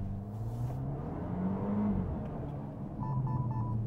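Engine of a Fastback Abarth or BYD Song Pro car pulling away in first gear, a steady close rumble that swells as the throttle opens, with a short electronic beeping tone near the end.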